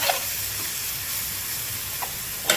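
Glass noodles stir-frying with cabbage in a pan, a soft continuous sizzle with occasional light clinks and scrapes of a utensil against the pan.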